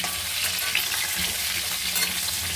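Brinjal pieces frying in oil in a pan, a steady close sizzle with soft stirring scrapes running through it, no voices.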